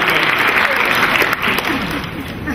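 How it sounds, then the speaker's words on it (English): Audience applause at a healthcare innovation conference: dense, loud clapping from a large room that runs steadily, then eases slightly in the second half with a few whoops and murmurs mixed in. "So go ahead, give yourselves a round of applause"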